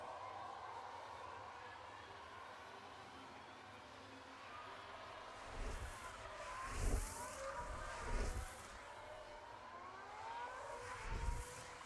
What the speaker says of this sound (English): we have our first car on track that isn't one of ours, and it is the Mercedes testing the waters here